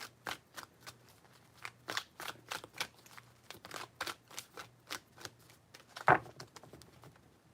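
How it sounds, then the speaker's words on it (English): Tarot cards being shuffled by hand, a series of quick riffling bursts in an uneven rhythm, close and fairly quiet, with a sharper slap near the end. "Three shuffles."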